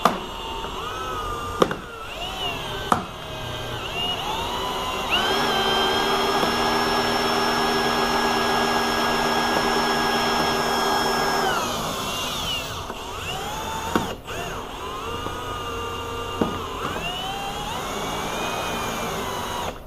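A $9 manual air pump at work during quarter glass removal on a Chevy Camaro, a steady whirring drone with tonal bands holding for about six seconds mid-clip, flanked by sharp clicks and handling knocks.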